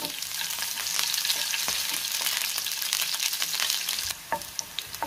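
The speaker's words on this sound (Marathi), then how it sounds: "त्यात आपण हिरव्या मिरच्या घालूया आणि मिरच्या चांगल्या परतून घ्यायच्या" Green chillies sizzling in hot oil with mustard seeds for a corn chivda, a dense continuous crackle and spatter heard close up, with occasional stirring scrapes and a slight drop in intensity near the end.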